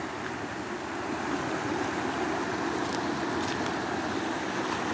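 The Acaraú river rushes past broken pieces of a bridge in Cariré, Brazil, fed by spillway water from the Araras reservoir, a loud, steady roar of flowing water with no pauses.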